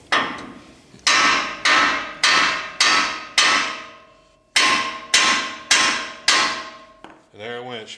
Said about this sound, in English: I just hit the spindle here. Now, you just need to give it a few love taps